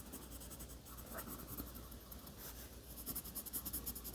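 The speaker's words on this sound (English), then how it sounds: "So I'm going to color in the entire marshmallow except for the eyes with this pale blue color." A pale blue colored pencil scratches steadily across paper, coloring in a drawing of a marshmallow with soft, rhythmic back-and-forth strokes, close and quiet.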